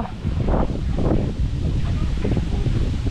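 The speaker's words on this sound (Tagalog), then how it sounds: "Lakas ang hangin." Strong wind buffets the microphone in a constant low roar, with faint voices underneath.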